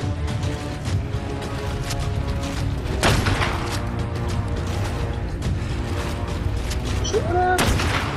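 A video game shootout with a continuous barrage of gunshots and booms. The firing stays dense and fairly loud, with a sharp louder burst partway through and a sweeping tone near the end.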